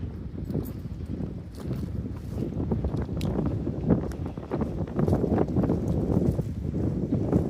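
Strong wind on a brisk day in North Austin buffets the microphone in continuous rumbling gusts, loud and rough throughout, with no voices.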